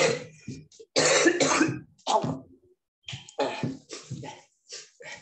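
A person on camera during a classroom self-introduction coughs repeatedly, several close, loud bursts in irregular groups with short pauses between, with some throat clearing mixed in.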